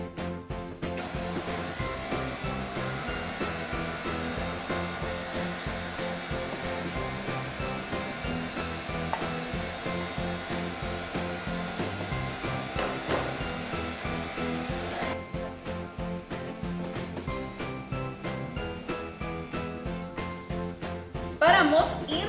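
An electric mixer beats egg yolks for a Yule log cake, giving a steady, continuous whirring drone that runs throughout at moderate level, shifting slightly near the end.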